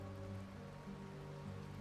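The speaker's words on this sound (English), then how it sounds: "Because it's raining in the desert today." Rain falling on a desert battlefield in the Rome: Total War strategy game, a soft steady patter with a faint hum beneath, quiet and unbroken, no voices.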